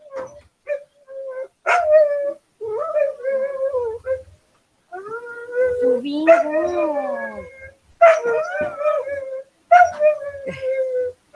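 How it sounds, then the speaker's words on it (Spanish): Pet dogs barking and howling close by, a run of loud overlapping howls, whines and yelps in several bursts with short gaps between. "tengo unos perritos y sí hacen una gran bulla"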